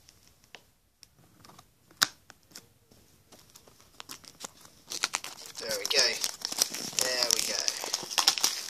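Close crinkling and scratching of plastic wrap being scratched off a DVD case, starting as sparse clicks and taps, then growing into dense, busy rustling and tearing.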